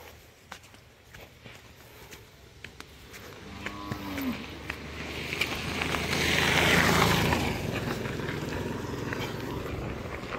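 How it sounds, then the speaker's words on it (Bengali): A farm cow beside a mustard field and pond lows once in a clear, drawn-out moo, moderately near, over quiet outdoor ambience with a few footsteps and soft rustling, while a broad vehicle-like rush swells in the background. "এটা মিঠা কাকাদের গরু"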